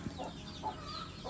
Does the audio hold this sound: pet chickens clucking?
yes